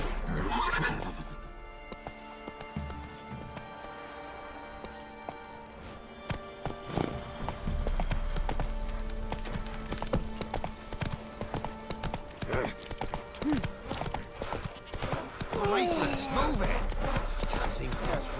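The horse Roach in the video game The Witcher 3, rhythmic clip-clop hoofbeats of galloping with whinnies and snorts, mixed with music and game ambience, while a voice speaks over it.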